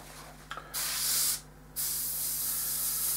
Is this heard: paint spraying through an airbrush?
yes